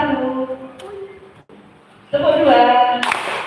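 In a primary school class clapping game at SDN 1 Kemiri, voices chant counts in unison and a brief, sharp burst of group hand claps lands near the end, with a fainter clap earlier.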